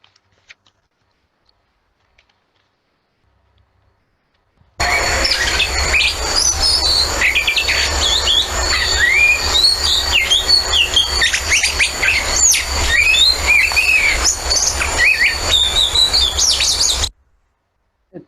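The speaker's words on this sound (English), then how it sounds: "Let's hear the bird." Chirping calls from a common garden bird in Mumbai repeat in quick bursts over a steady insect drone for about twelve seconds, fairly loud and close, with silence before and after.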